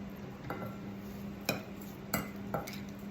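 Larb being stirred in a pot, quiet scraping with a few distinct clinks of a utensil against the pot over a low steady hum.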